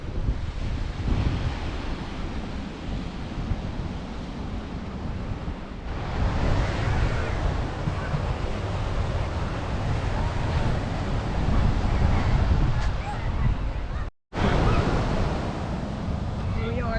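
Atlantic Ocean surf rolls onto the beach at Cape Henlopen State Park on a hot, hazy, breezy day, a steady loud roar of breaking waves mixed with gusting wind buffeting the microphone and one brief dropout.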